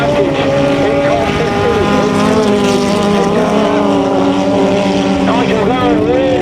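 Race cars including a 2 litre Honda Prelude contest a sand racing championship circuit, engines droning loudly and continuously with shifting pitch as they pass, a commentator talking over them throughout.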